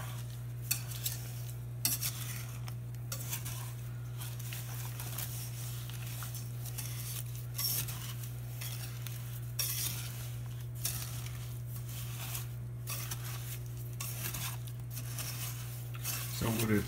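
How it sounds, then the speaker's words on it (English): A spoon stirs evaporated milk into sugar in a pan over medium heat, with repeated scraping strokes at a steady rhythm over a constant low hum, close and fairly quiet. "You want to try to stir that evaporated milk into your sugar."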